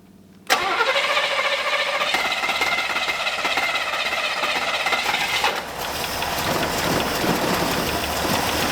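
A V8 Buick LeSabre engine, left sitting for 34 years, cranks and catches at once, then runs loud and steady close by, the tone shifting slightly partway through, with no one talking.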